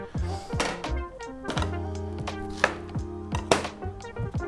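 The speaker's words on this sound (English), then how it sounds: "So we're just gonna cut up the onion" Knife chopping an onion on a cutting board, a series of close, solid thunks at an uneven pace, with faint ringing tones lingering underneath and no talk.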